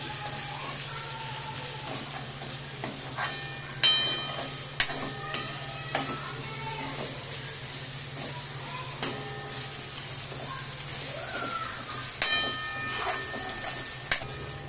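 Chole masala roasts in a pan with a steady low sizzle, while a spoon clanks and scrapes against the metal every second or two as the spices are stirred.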